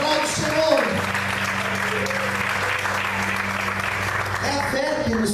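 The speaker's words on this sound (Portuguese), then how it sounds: "Aplaude o Senhor." A church congregation claps in praise, dense steady applause from a crowd filling the room, with a low sustained tone humming underneath throughout.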